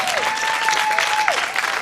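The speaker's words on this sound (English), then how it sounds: "Please give her that well-run, deserved round of applause." Audience applause at the opening ceremonies of the Decatur Celebration festival, a dense steady wash of clapping that stays loud and even throughout, with a faint high tone gliding through it.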